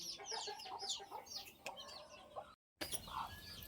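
Chickens cluck and chatter close by in a farmyard, the sound running steadily for a few seconds with a short gap before more clucking and a brief higher call.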